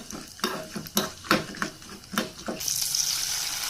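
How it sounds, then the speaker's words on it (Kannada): Cashews and almonds fry in ghee for sabudana beetroot halwa, with a series of scraping stirs against the pan, then a steady bright sizzle takes over; close, moderately loud, no talk. "ನಂತರ ಅದಕ್ಕೆ ಬೇಕಾಗಿರೋಂಥ ಗೋಡಂಬಿ ಬಾದಾಮಿನ ತುಪ್ಪದಲ್ಲಿ ಫ್ರೈ ಮಾಡಾಕ್ಕೊತಾ ಇದ್ದೀನಿ"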